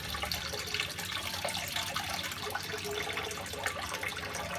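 Water from the first rinse cycle of a washing machine gushes and splashes steadily at moderate loudness, without pauses, as a continuous watery rush.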